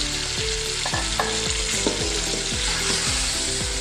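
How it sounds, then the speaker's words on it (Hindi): Pre-boiled beef frying with onions in a pot for beef pulao, a loud constant sizzle with rhythmic scraping stirs of a spoon repeating every half second or so. "अब इस गोश्त की अच्छे से भुनाई करनी है।"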